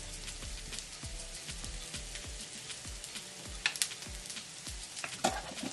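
Tomato pieces sizzle and crackle in a pan beside a black bean burger, a faint, steady frying hiss with scattered pops and a few soft stirring sounds.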